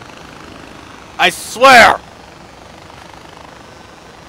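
A helicopter in Far Cry 4 is heard as a low, steady rotor and engine drone running through the whole stretch under a short burst of a man's speech.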